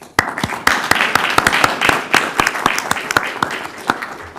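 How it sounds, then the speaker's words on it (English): A small crowd at a city council meeting applauds with many distinct claps, loud and steady throughout, with faint chatter underneath. "just want to give a round of applause to our firefighters and our police."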